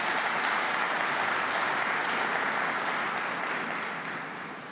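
Sustained audience applause in a large hall during a state address by the Russian president to the Federal Assembly, dense and steady throughout before tapering off slightly near the end, with no talk over it.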